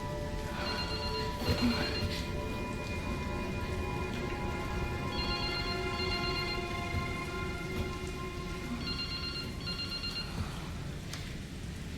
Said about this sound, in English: whose phone is this?